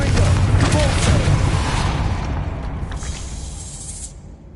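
Confringo fire spell blast in Hogwarts Legacy, a loud, deep boom with crackling debris and hissing spray that gradually tapers off, ending in a brief bright whoosh.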